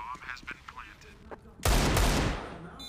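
A Counter-Strike match on Overpass: faint clicks and short game sounds, then a sudden loud burst of gunfire that fills the last second with sharp, dense shots.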